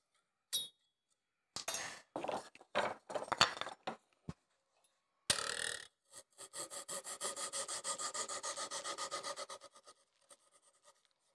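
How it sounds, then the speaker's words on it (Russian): Hand saw cutting wood held in a magnetic miter box for an exact 90-degree cut, opening with a few scattered knocks and scrapes, then a close, steady run of rhythmic rasping strokes that fade out at the end. "В данном случае нам поможет магнитное стусло для пиления идеально 90 градусов."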